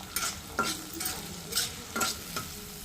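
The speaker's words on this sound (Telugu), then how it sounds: "నూనె వేడెక్కిన తర్వాత కొంచెం పచ్చిమిరకాయలు, ఉల్లిపాయలు వేయాలి" Green chilies and onions fry in hot oil for a cauliflower curry, a steady sizzle broken by repeated scraping strokes of a spoon stirring in the pan, close and without talk.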